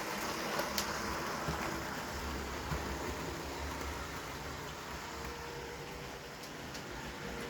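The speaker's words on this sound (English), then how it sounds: "I apologise about the rain also, it is quite loud." Heavy rain gives a constant broadband hiss, steady and fairly loud throughout, with a faint low hum beneath it and no talking.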